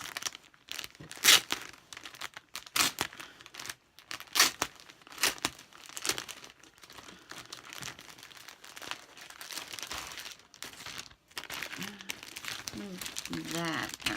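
A plastic-wrapped clothing package is torn open with loud bursts of crinkling and crumpling, stop-start handling, and someone talking briefly near the end.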